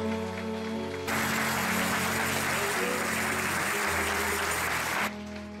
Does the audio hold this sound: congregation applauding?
yes